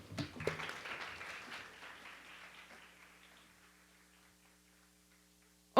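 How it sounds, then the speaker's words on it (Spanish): Applause at a talk on women in the economy starts with a few sharp claps, then thins out and fades to near silence over several seconds, ending with a sudden brief sound. "Adelante, por favor, un aplauso"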